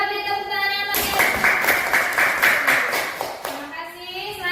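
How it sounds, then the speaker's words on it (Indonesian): A class of schoolchildren claps in a dense, lively burst of applause lasting a few seconds, framed by a voice speaking just before and after. "Kita beri tepuk tangan yang meriah."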